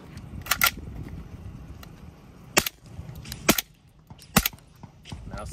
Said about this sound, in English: I'm so spoiled by the sound of this gun. It is so incredibly quiet.